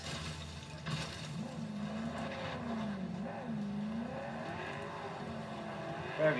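Car engine roars steadily through a racing video game crash, with droning motor tones and a brief sharp impact near the end, moderately loud with no talking.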